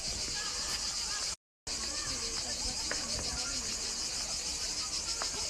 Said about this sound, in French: Mais c'est pas des criquets, c'est des cigales.